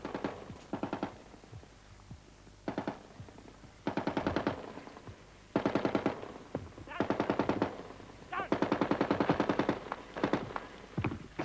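Bursts of machine-gun and rifle fire from an archival 1975 Vietnam frontline news report of the battle for Newport Bridge, rapid rattling volleys repeated in clusters, loud and fairly close.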